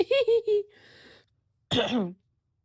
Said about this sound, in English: I definitely want to apologize about my constant coughing